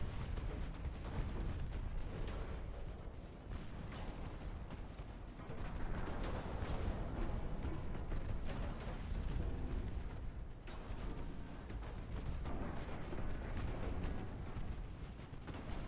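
Warship guns firing in the naval battle game Ultimate Admiral Dreadnoughts: a continuous barrage of deep, rumbling booms and overlapping salvos that roll into one another for the whole stretch, loud and dense with no clear pauses.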